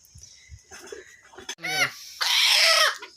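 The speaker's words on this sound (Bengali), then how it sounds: "এ হচ্ছে আমার পাঁচটা দেশি মুরগি" Five native desi hens clucking nearby in short bursts, followed by a longer, louder squawking call.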